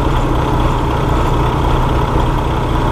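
A car engine idles with the drive belt turning while the air conditioning compressor clutch stays disengaged, giving a steady, close, loud low rumble with no changes in pitch.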